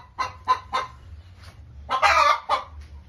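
A hen, a native criolla breed, clucking loudly and close in a series of sharp squawking bursts, three quick calls then a longer, louder outburst, with a low rumble beneath.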